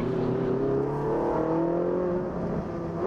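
A Ferrari engine hums steadily as its automatic gearbox drops through several gears, the pitch stepping down in small shifts while the engine keeps a smooth, close, continuous roar.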